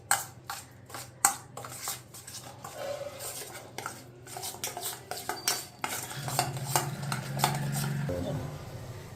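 Strained yogurt mixed with spices for butter chicken, a spoon clinking and scraping against the bowl in quick, close strokes, ending in a steadier stirring rasp.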